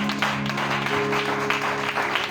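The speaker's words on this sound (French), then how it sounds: "Acclamons le Seigneur Jésus pour le pasteur" Applause from a church congregation at an evangelism campaign service, a steady wash of clapping filling the space throughout, loud and continuous, with faint voices underneath.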